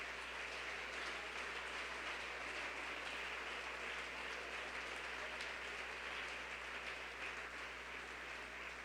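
Church congregation claps in a long, even wash of applause, moderately distant and filling the room, with a low steady hum underneath.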